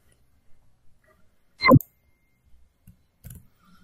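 A single sharp computer mouse click while logging into a Microsoft Azure Ubuntu virtual machine session, fairly close and clear, followed by a couple of faint softer clicks in an otherwise quiet room.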